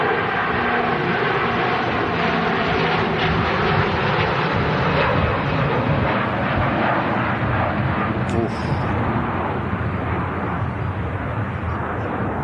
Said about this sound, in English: Virgin A330 on the move.